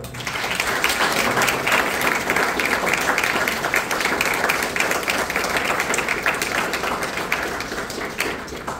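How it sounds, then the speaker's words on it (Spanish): Sustained audience applause at a book launch, a dense, steady wash of many hands clapping at once, loud and continuous for several seconds with no break. "Así que un aplauso enorme a Paola."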